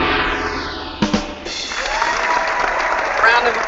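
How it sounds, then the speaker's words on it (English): Applause for a birthday celebrant on an entertainment episode, a steady broadband patter of clapping with a sharp transient about a second in, continuing loud and close to the end, a voice speaking briefly over it. "Round of applause, round of applause."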